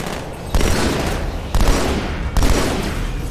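Burst-fire gun shots from the video game Halo 2 come in three loud, sharp volleys about a second apart, over a constant dense background of game noise.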